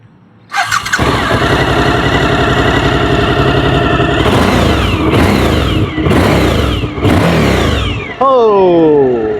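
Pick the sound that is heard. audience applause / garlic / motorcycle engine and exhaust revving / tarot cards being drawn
motorcycle engine and exhaust revving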